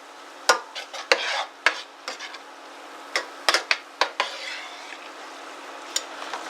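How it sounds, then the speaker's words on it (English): A utensil stirs stromboli filling in a pan, scraping and clacking against the metal in irregular close strokes over a faint sizzle, with several sharp knocks in quick bursts. "every time you add an ingredient, you want to stir it up"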